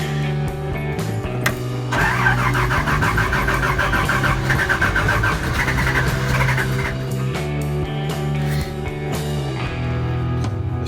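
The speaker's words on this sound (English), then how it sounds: "Gotta full choke it. This is a full cold start here." A 1985 Toyota FJ60 Land Cruiser with a rough-running engine is cold started on full choke. The starter cranks, then the engine catches and runs unevenly at a loud, close idle with small surges in revs.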